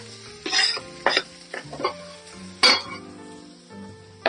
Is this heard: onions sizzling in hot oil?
yes